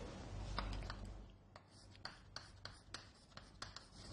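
Pen or marker scratching across paper or a board, a faint run of short strokes and taps in an otherwise quiet room, with a bit of low background hum.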